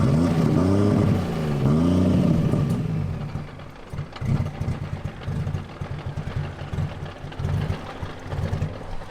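A Toyota 1JZ engine fitted in a BMW E36 runs loud and close, its note rising and falling smoothly at first before turning choppy and uneven with irregular bursts, as if stumbling on lost fuel pressure.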